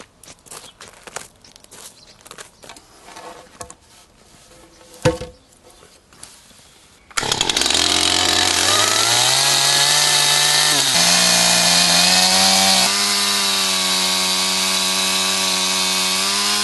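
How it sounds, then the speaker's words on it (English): A chainsaw starts up and cuts through a log to split it in two, loud and steady for about ten seconds with a shift in pitch partway through the cut, after a few seconds of quieter footsteps and handling. "it might be that I have to chop this in two with the saw"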